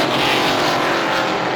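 Race cars in a heat at Star Speedway roar past, a loud, dense, continuous engine blare from several cars close by with no talk audible.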